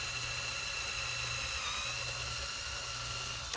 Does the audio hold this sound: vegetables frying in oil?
no